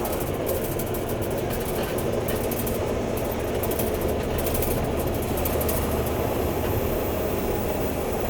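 Kenworth W900 truck engine droning steadily from inside the cab during a downshift, a continuous low rumble with a faint rising whine near the end.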